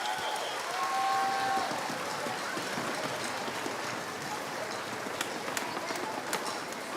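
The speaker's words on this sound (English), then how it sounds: "applause for a great job" Dense, steady applause from an auditorium audience at a district band concert, honoring student band performers and their directors; continuous clapping with a sustained wash of noise and no pause throughout.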